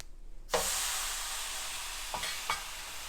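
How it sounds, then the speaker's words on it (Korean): A hot pan pressed onto a cold wet cloth gives a sharp sizzling hiss that starts suddenly, holds steady and fades slowly, with two brief rustling bursts as the pan is moved. "이런 식으로 칙 소리가 사라질 때까지 공중에서 흔드시면 돼요"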